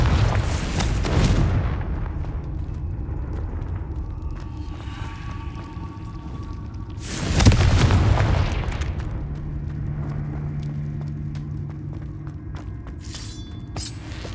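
A Confringo fire-spell blast in the Hogwarts Legacy video game, with two broad booming bursts, one near the start and a louder one around the middle, over a steady low game ambience.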